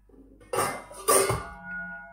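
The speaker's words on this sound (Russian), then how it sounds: "Накрою это все крышкой" A metal lid settles onto a cooking pot with two distinct clanks a half second apart, each followed by a short ringing tone that fades away, close and fairly loud with no talk.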